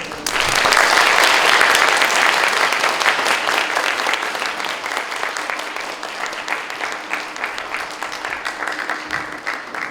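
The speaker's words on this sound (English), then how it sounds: "Please give them a big round of applause." An audience at a special invited lecture applauds to welcome two visiting professors. The clapping is loud and dense, peaks in the first seconds, then carries on steadily and slightly softer to the end.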